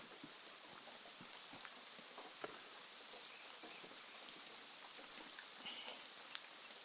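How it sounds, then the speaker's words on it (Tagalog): Steady rain falls outside a hut in the mountains, a dense even patter with scattered louder drops close by and no voices. "So, maulan, so silong lang muna tayo"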